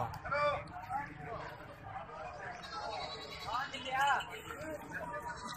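Goats at a goat farm bleat in several short, wavering calls, close and fairly loud, over a busy backdrop of people talking.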